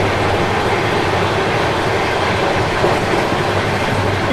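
The Ranthambore Express passes close during a crossing on an Indian railway line, a loud, continuous roar and rumble of wheels and carriages with no voices.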